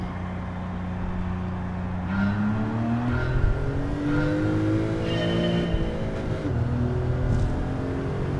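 Jeep and Porsche race cars in Gran Turismo 7 drone and rev continuously, engine pitch climbing and shifting through gears as they accelerate together, with a faint tire squeal near the end.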